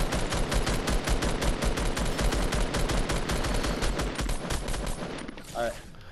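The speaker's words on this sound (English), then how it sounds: "Wow, I got shot from behind." Rapid automatic gunfire in Fortnite, a fast steady stream of close, loud shots lasting several seconds before tapering off into quieter game sound with a brief voice.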